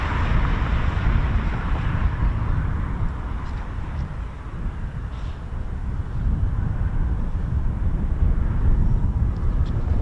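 A Eurofighter Typhoon FGR4 flying a practice display gives a loud, continuous broadband roar that swells and eases slightly, heavy in low rumble and with wind buffeting on the microphone.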